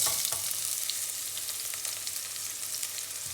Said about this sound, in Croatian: I sad počinjemo da pržimo.